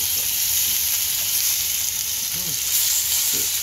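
Salmon fillets fry in a frying pan with a steady, bright sizzle that runs throughout, with faint clinks and small shifts as the fish is handled.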